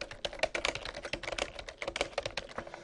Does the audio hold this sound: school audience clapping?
no